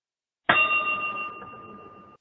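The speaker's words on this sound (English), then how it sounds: "Station B acknowledges it by repeating same bell code" A single bell stroke from a railway block instrument, sounded as part of a bell code sent back in acknowledgement between stations; a sharp struck onset with a clear, ringing tone that slowly decays.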